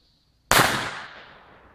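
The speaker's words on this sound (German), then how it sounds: "Das waren die A-Böller." A single sharp Comet firecracker bang bursts out after brief quiet, then its loud crackling echo slowly fades away.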